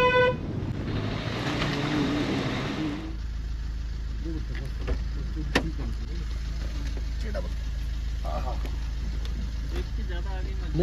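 Car driving on a narrow mountain road near Mussoorie, a steady low engine drone and road rumble with a brief horn toot, and a voice speaking at the start.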